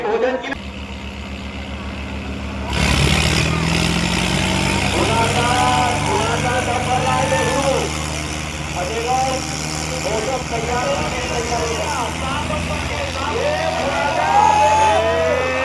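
Mahindra 575 tractor engines drone steadily at a tochan pulling contest, a continuous heavy idling rumble running throughout beneath loud crowd noise and people talking.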